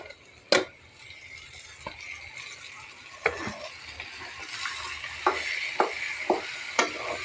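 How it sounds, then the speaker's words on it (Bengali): Boiled, mashed lentils stirred into a pan with fried dried chili paste for a naga-chili dal bharta, heard as close, intermittent sharp scrapes and knocks of a spoon against the pan over a faint sizzle, without voices. "এখন আমি ডালটা সিদ্ধ করে বেটে নিয়েছি, সেইটাকে আমি অ্যাড করে দিলাম।"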